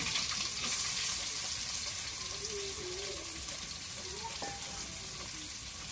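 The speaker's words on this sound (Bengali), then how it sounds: "এখন একটু পেঁয়াজটা তেলের মধ্যে ভাজিয়ে মাছটা ভিজিয়ে করবো।" Onion frying in hot oil alongside fish gives a steady, dense sizzle that hisses evenly throughout at moderate volume, with faint clinks in the background.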